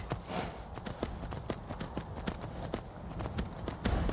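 A horse's hooves clatter in rapid, uneven clip-clops as it scrambles up a mountainside in Skyrim, close and fairly loud, with a heavier impact near the end.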